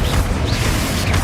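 The Confringo fire spell cast in the video game Hogwarts Legacy, a loud, dense, rumbling burst with a whooshing edge that lasts about a second, close and alone.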